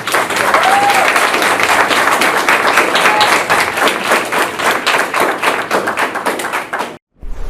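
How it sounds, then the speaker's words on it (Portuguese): Loud, dense clapping from an audience at a youth spiritist group event thanks its guests, sustained for several seconds before cutting off abruptly. "uma salva de palmas"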